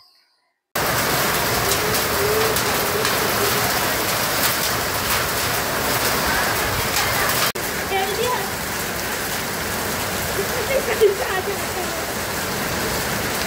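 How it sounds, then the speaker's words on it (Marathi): A dense, steady downpour of hail and rain hisses continuously after a brief silent start, with occasional harder hailstone impacts mixed into the roar. "गारांचा पाऊस."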